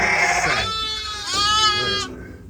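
Ewes and lambs bleat loudly and close together on a farm while being loaded onto a trailer, one long wavering cry overlapping another before it breaks off abruptly.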